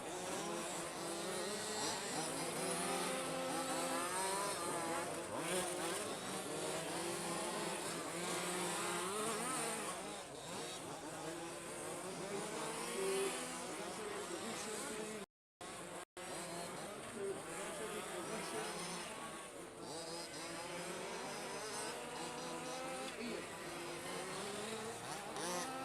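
Radio-controlled off-road cars racing on a track, a constant buzzing chorus of small high-revving motors sweeping up and down, heard at a distance beneath a commentator's voice, with one brief dropout.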